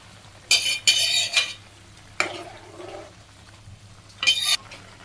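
A ladle scrapes and stirs potato curry with cumin and garam masala paste in a pot on a rooftop cooking fire in rural Bangladesh; several short, sharp metal scrapes come close and loud, with quieter gaps between.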